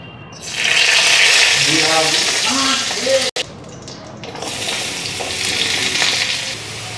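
Cumin seeds and bay leaves splutter in hot oil with a close, steady sizzle. A voice speaks briefly over it, a short gap cuts in partway, and then the frying continues.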